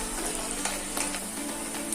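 Onions sizzle and fry steadily in a hot pan while cooking rajma masala, a close, continuous crackling hiss with small pops and the light scrape of stirring.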